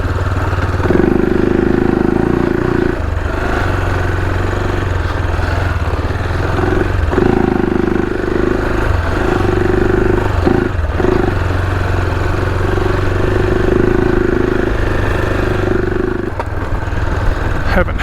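Motorcycle engine rumbling steadily while riding through rough Victorian high country, a loud, close, continuous drone that rises and dips with throttle changes, with brief breaks.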